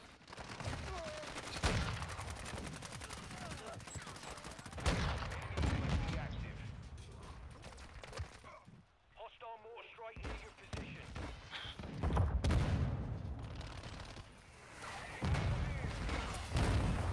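Rapid bursts of video game gunfire from a single gun crackle through most of the stretch, with brief lulls between volleys, while a player talks excitedly over the shooting.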